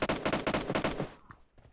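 An AKM assault rifle in PUBG Mobile fires a rapid automatic burst of about ten loud, close cracks, then the sound thins to a few faint scattered shots.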